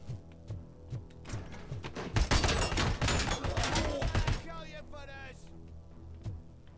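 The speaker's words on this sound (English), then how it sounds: "I think this gun's called the G11." Rapid G11 assault rifle fire in a video game rattles out in a dense, loud burst lasting about two seconds, framed by quieter game sounds and thuds before and after.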